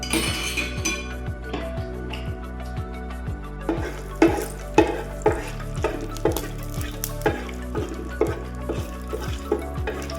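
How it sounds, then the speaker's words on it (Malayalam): Whole cardamom pods and cloves fry in a pan for chicken curry while a spoon stirs them, with a steady low sizzle and a rhythmic series of metallic clinks and scrapes against the pan, up close. "ഒന്ന് ഇളക്കാം."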